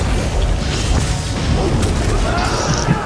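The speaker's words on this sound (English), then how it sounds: "I got bombed" A deep boom from a bomb explosion in The Elder Scrolls Online bursts out amid dense, loud game combat noise, with crashing impacts and whooshing effects layered on top.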